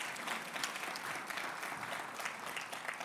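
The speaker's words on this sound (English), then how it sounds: "So how about a round of applause to welcome those students and thank those sponsors." Audience applause at an author talk on the future of work, welcoming students and thanking sponsors; a steady, dense wash of clapping from a large crowd, even and sustained throughout without pause.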